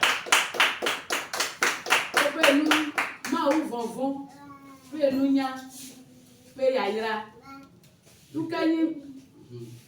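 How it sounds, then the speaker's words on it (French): A church congregation at an evening prayer camp claps together in a quick rhythmic burst for about three seconds, then a voice speaks over the fading room. "Applaudissons pour le message de Dieu ce soir."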